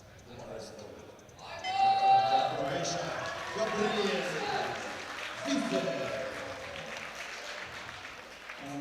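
Spectators at a junior European powerlifting championship applaud and cheer a lifter walking to the platform. The applause swells partway through and carries on under a commentator's talk.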